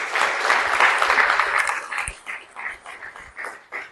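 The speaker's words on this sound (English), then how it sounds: "Let's give them a round of applause." A ceremony audience before a women's Namibia vs Zimbabwe match breaks into full, steady applause that holds for a couple of seconds. It then thins into scattered individual claps that fade out, with no talking over it.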